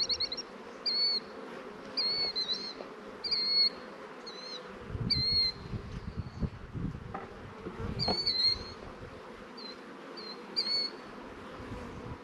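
Honey bees drone softly around an open hive, a low continuous buzz swelling in the second half, with clear bird chirps repeating above it and no talk.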